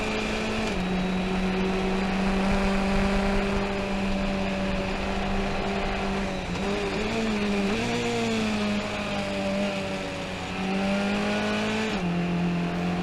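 A racing car at Summit Point circuit heard from inside, its engine droning loudly and steadily with pitch rising through revs, dipping at gear shifts and climbing again.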